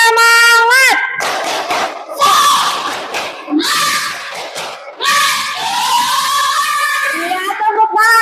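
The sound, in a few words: schoolchildren doing a rhythmic clapping chant (tepuk semangat)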